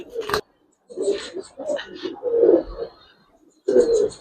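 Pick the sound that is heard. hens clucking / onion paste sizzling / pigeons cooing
pigeons cooing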